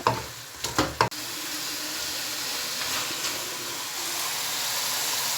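Mutton karahi with tomatoes sizzles loudly in hot oil in a pan, a few clattering stirs at first, then a steady close frying hiss that continues unbroken.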